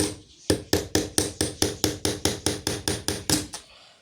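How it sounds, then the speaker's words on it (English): Hammer tapping nails into a painted cylinder for a homemade rain instrument, about thirteen sharp, evenly spaced blows in a steady rhythm, close and clear. "So then you're gonna just hammer it slightly in like this."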